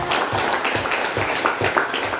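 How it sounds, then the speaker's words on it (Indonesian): Students in a classroom clap together in a steady burst of applause, fairly close and even throughout, with no talking. "Mantap, kasih tepuk tangan dong."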